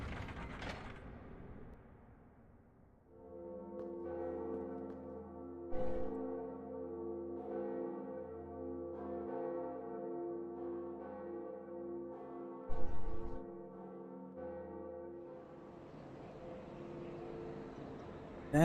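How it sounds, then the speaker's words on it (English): A large bell being rung in Dark Souls Remastered, with a sustained metallic, harmonically rich tone over grinding mechanism and gear noises for most of the clip, plus a couple of heavier clunks partway through. "And now, we ring the second bell."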